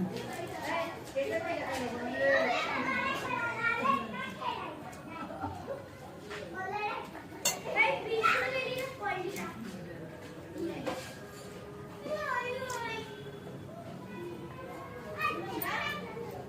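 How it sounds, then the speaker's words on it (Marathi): Little girls playing outside, a lively jumble of high children's voices, shouts and chatter at moderate distance, continuous with brief lulls. "बाहेर खेळताय लहान लहान मुली बघा किती आवाज आहे"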